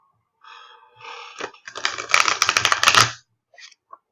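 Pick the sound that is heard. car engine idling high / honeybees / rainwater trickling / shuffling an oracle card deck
shuffling an oracle card deck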